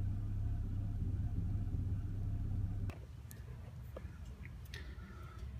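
A car engine idles with its revs jumping unsteadily, a close low rumble that drops abruptly midway, followed by quieter idling with scattered ticks and clicks.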